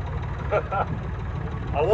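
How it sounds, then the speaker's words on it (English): A tractor engine runs again at a vintage tractor rally after a fuel-related breakdown, a low steady idling rumble under a brief voice. "Tractor's running again."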